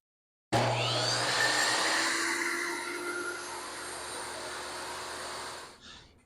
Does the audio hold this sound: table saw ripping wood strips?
yes